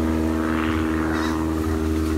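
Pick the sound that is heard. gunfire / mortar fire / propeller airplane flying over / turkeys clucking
propeller airplane flying over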